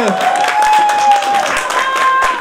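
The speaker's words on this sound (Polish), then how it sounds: "Wielkie brawa!" At a county festival, a crowd applauds a prize winner with a loud, steady wash of clapping for a couple of seconds, alongside a thin sustained tone and a voice over the noise.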